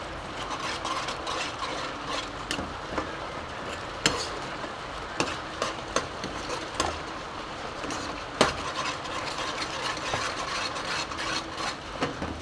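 Egg masala being stirred and mixed in a pan, a steady scraping and clinking of a spoon against the pan with soft sizzling underneath and occasional sharper knocks, fairly quiet and without talk.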